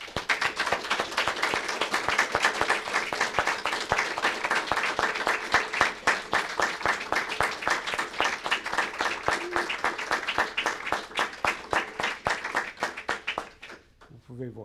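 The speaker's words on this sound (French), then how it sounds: "je pense que nous allons applaudir" Warm, sustained applause from a seated crowd at a memorial ceremony, dense steady clapping throughout that thins out and fades near the end.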